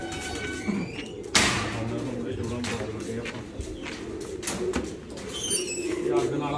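Pigeons at a breeding loft coo in soft low murmurs under someone talking nearby, with a sharp knock partway through and steady background rustle.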